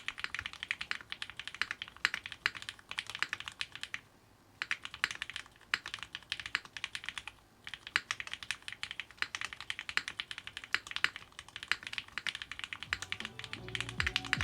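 Fast, close typing on a Frog Mini mechanical keyboard fitted with an Owlab Neon spacebar switch: dense, crisp clacks flow in bursts with a couple of brief pauses between runs.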